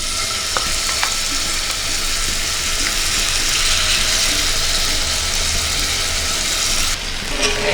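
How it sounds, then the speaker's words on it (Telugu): Marinated chicken frying in oil in a pan for chicken vepudu: a loud, continuous close-up sizzle with occasional spatters and light stirring, no talk. "ఆ చికెన్ని వేసుకొని ఫ్రై చేసుకోవాలి."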